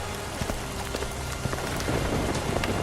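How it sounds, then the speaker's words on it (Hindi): Heavy rain pours steadily, a dense broadband hiss with scattered sharper drops hitting a surface, no voices. "बारिश पहले के मुकाबले बहुत तेज हो चुकी थी।"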